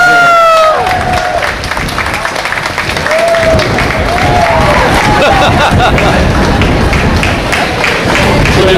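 A crowd applauds and cheers for the guest services front office staff at a staff event, with sustained dense clapping and shouts that start strongly and carry on steadily throughout.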